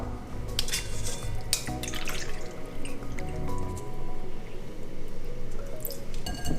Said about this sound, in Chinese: 拿一个筛网，确实把糯米的水沥干。